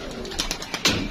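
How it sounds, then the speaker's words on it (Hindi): Pigeons kept in a coop give soft, low coos in a brief moment over a steady background hiss, fairly close. "ये रही जी माशाल्लाह कबूतर है।"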